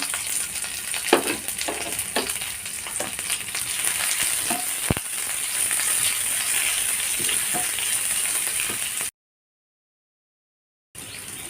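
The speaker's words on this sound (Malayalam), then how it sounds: "ഇനി ചതച്ച് വെച്ച ഉള്ളിയാണ് കേട്ടോ ഞാൻ ഇട്ട് കൊടുക്കുന്നത്." Crushed shallots and garlic sizzle in hot oil while cooking a beetroot thoran for an Onam sadya, a continuous crackling fry with spoon scrapes and stirring clicks, then a sudden cut to silence near the end.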